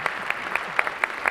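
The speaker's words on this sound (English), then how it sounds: "give them a round of applause." Applause from a conference audience at a climate and finance panel: a modest, fairly close patter of claps with sharper individual hits standing out at a steady pace.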